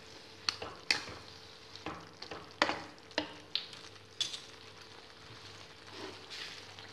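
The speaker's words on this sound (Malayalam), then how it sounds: "ഇതൊഴിച്ചിട്ട് ഇളക്കി കൊടുക്കാം." Curry gravy in a pan being stirred just after vinegar goes in, with a soft sizzle under a run of sharp spoon scrapes and taps against the pan, fairly quiet and close, no talking.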